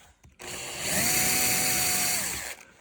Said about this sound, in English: I'm going to take another bit and drill a little bit deeper.